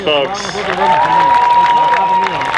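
Audience applause and cheering at a cosplay contest at a Japan festival, a steady crowd roar of clapping heard close and loud while an announcer speaks over it.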